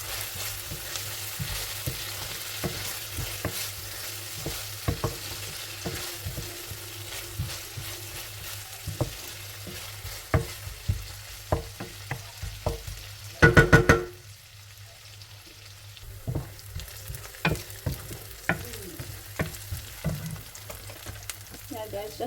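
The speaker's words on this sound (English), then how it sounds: "So I'm going to cook the onion, garlic and ginger for an extra 2 minutes." Onion, garlic and ginger sizzle and fry in a pan for a curry, with a steady crackle, repeated stirring scrapes and one brief loud clatter partway through.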